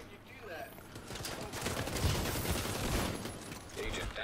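Sniper rifle fire from an enemy in the Dark Zone of The Division 2, mixed into a busy firefight with scattered gunshots and a sharp crack near the middle, under a player's talk.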